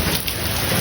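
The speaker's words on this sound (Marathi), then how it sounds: "आणि पाऊस काय जाई ना आलाय." Heavy rain pours down in a loud, unbroken wash of noise, with a low rumble of thunder underneath throughout the brief moment and no voices.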